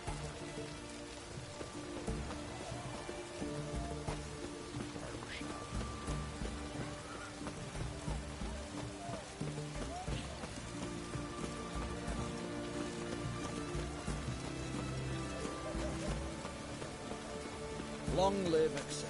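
Steady rainfall in the video game Witcher 3, a constant soft hiss of drops with an ambient game score underneath, a louder burst near the end, and a voice talking at times.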